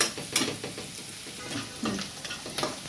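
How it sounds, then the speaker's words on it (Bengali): Onions fry in a pan until they brown, a close, moderate sizzle with irregular stirring scrapes and soft utensil knocks. No voices. "পেঁয়াজটা লাল হওয়ার অপেক্ষা করছি।"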